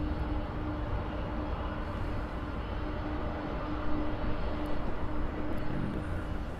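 An airliner taxis across the airfield at LAX, a steady distant jet engine whine and roar that holds evenly throughout with no speech over it.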